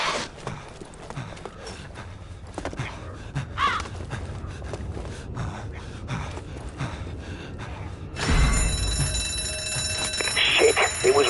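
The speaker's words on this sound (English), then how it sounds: "it was rigged to the alarm. Get inside before every blighter from miles around comes running." A rigged alarm blares in a zombie video game, a sustained ringing tone that starts abruptly partway through and continues loudly over game noise and footsteps.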